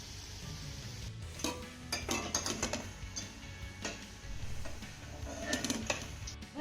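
Fried besan bhaji fritters are lifted from hot oil with metal utensils, giving irregular clinks and scrapes against the pan over a low bubbling hiss, with no talk.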